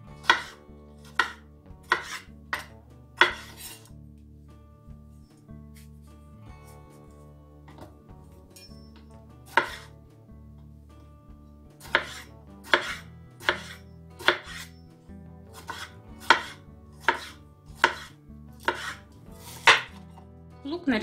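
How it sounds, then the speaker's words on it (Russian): A knife dices tomatoes, chopping sharply against a cutting board in quick bursts of evenly spaced strokes, pausing between runs, with faint background music underneath. "Помидоры нарезаю кубиком."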